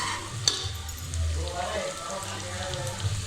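Spicy masala sizzles and crackles steadily in hot oil for a mutton curry, a continuous close hiss with occasional sharper pops and faint stirring throughout.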